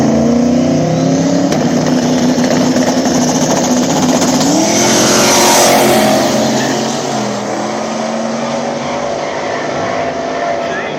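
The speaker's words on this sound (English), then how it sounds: "next pair, we got this boosted Fairmont taking on the boosted Mustang" Boosted Ford Fairmont and boosted Mustang drag racing at a small-tire track event in Ohio, engines roaring loud and steady with a rising pass through the middle, crowd noise and talk beneath.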